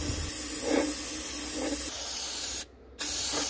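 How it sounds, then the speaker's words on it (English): Dinitrol underbody wax sprays in steady hissing bursts from an aerosol nozzle into the cavities of a classic Mini body, with a brief pause before the spraying resumes. "just get a bit of Dinitrol underbody wax and spray that"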